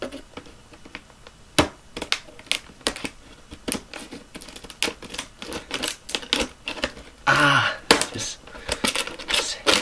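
Sharp clicks and snips of scissors cutting into the plastic packaging of a Windows Media Center remote and IR receiver, irregular and close, with a burst of crinkling plastic near the end.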